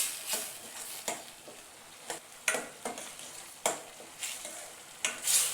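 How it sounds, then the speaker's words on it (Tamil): Spicy small dried fish (podi karuvaadu) gravy with tomato simmers in a covered pan, popping and sputtering in soft, irregular bursts up close, with no talking. "மேலே மூடி வச்சு கொதிக்க விடலாம்."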